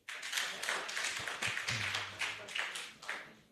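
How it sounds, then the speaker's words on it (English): Audience at a Lagos State HCPAN annual general meeting and scientific conference breaking into clapping, a moderate, fairly brief patter of hands, slightly sparse and uneven, in a hall. "you can clap if you want"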